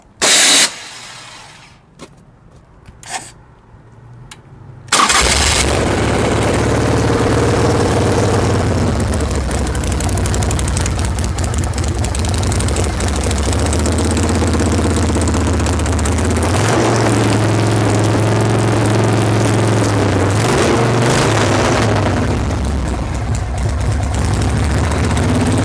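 A Harley-Davidson Shovelhead motorcycle engine cranks with a few brief bursts, then catches and settles into a loud, steady, rumbling idle that continues close by to the end.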